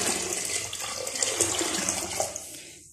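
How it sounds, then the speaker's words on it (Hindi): Water pours into a pot of soaked chickpeas being cooked for a chana chawal meal, a steady close splashing stream that runs for nearly three seconds with no talk over it before cutting off. "ये मैं पानी डालती हूँ इसमें चनों में,"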